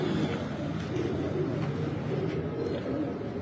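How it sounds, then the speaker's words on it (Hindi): High flyer pigeons cooing in a loft, soft low murmuring calls over a steady, dense background hum, fairly faint and continuous, with a little indistinct human sound mixed in. "ये हाई फ्लायर कबूतर है।"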